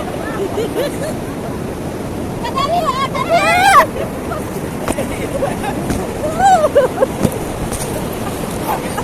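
Surf washes in at Citangeuleuh beach in Garut as a loud, continuous broadband roar with swelling surges, while distant people chatter and call out in the background.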